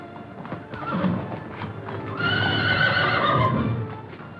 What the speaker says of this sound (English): Best horse I ever owned